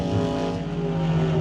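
A drag racing car does a burnout, a close, loud, sustained engine roar with strong harmonic drone and slight pitch wobble, heard in a short burst without talk.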